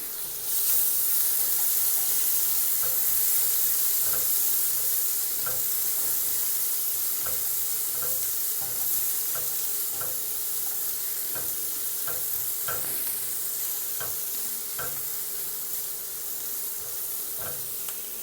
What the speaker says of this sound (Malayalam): അതുപോലെ തന്നെ ഒരു ഇഞ്ച് വലുപ്പമുള്ള ഇഞ്ചി കൂടി കട്ട് ചെയ്ത് നന്നായിട്ടൊന്ന് വഴറ്റിയെടുക്കാം നമുക്ക്.